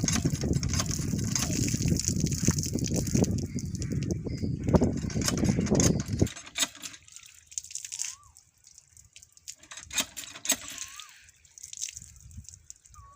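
Hot water splashes and trickles steadily from a tap for several seconds, then thins to faint drips with a few small splashes.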